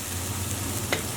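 Crushed garlic fries with browned onions in a pan, giving a steady, quiet broadband sizzle with a brief stirring scrape near the end and no voices.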